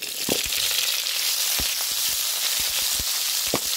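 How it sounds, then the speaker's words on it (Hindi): Green chillies frying in hot oil with poppy seeds for an instant pickle, a loud dense sizzle on a high flame with scattered pops and crackles, close and steady, no speech. "अब मिर्चों को इसमें थोड़ा फ्राई करना।"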